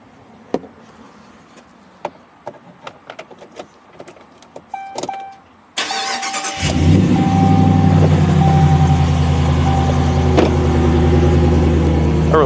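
A 2017 Ram 1500 Quad Cab fitted with an S&B cold air intake cranks and settles into a loud, steady idle after several clicks and clunks, with a short starter whir before the engine catches.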